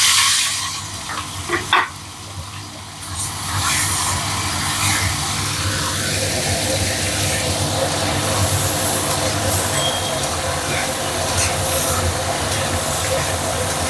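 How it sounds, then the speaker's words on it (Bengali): Live tiger prawns coated in salt and turmeric drop into hot oil after a couple of clattering knocks, then a loud, steady sizzle and spitting hiss of frying fills the rest, close and continuous. "তেলটা গরম হয়ে গেছে, আমি চিংড়ি মাছগুলো নুন হলুদ মাখানো দিয়ে দেবো।"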